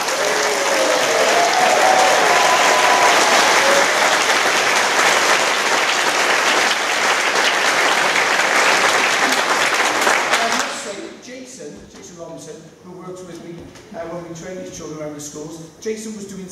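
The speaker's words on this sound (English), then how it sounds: "So your support, big round of applause." A loud, dense burst of audience applause for young taiko drummers lasts about ten seconds and then cuts off sharply, followed by someone talking in a hall.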